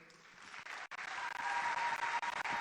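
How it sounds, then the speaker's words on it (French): Sustained audience applause at a scholarship award ceremony for a top-ranked student, dense and steady with a brief dip near the start before swelling back to full clapping. "sous vos applaudissements, nous invitons la boursière Bassinsa Boufouani-Kissa Mariette."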